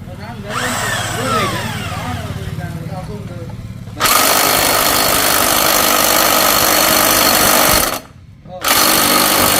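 A vehicle engine cranks and catches, then settles into a loud, steady, rattling idle that runs almost continuously with one brief dip, while a voice talks over the first seconds.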